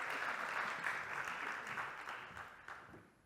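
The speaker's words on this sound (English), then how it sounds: "let's have a warm applause for him" A seminar audience gives a warm round of applause as a speaker is welcomed on stage: soft, distant, even clapping that tapers off toward the end.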